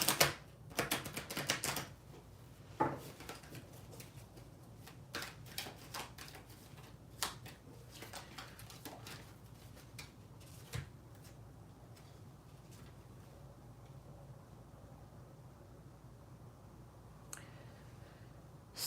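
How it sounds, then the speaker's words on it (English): Tarot cards being shuffled by hand give a burst of crisp riffling clicks at the start, then settle into quieter, scattered taps and flicks that go on without talk. "I'm still shuffling because I really want to get the energy on these cards."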